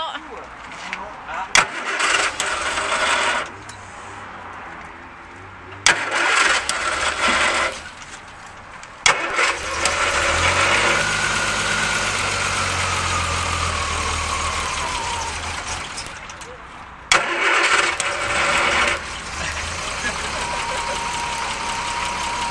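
A Triumph GT6+ sports car engine cranks several times in bursts, then catches and settles into a rumbling idle, with people talking nearby.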